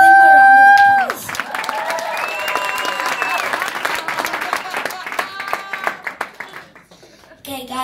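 Audience applause and cheering for a pair of backup dancers at a live music performance, a dense crowd of clapping hands rising after a voice and continuing steadily with scattered shouts.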